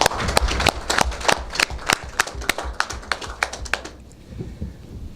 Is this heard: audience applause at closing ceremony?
yes